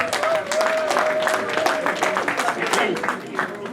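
Applause from the audience at an Alliance de Daloa en France election event: loud, continuous group clapping with individual claps audible throughout, mixed with crowd voices and a sustained tonal sound from a speaker or instrument.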